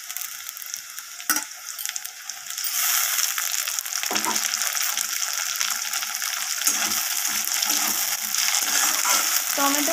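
Chopped tomatoes added to frying potatoes and onions in hot oil in a home kitchen, a sharp sizzle that jumps to a loud steady hiss with occasional stirring scrapes, close and continuous without talk.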